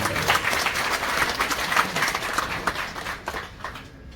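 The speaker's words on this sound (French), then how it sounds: "Sous vos applaudissements, s'il vous plaît, Madame." Sustained audience applause at a school tribute ceremony honoring a teacher's long career at Cours Anne-Marie Javouhey, dense steady clapping from a crowd that thins and fades toward the end.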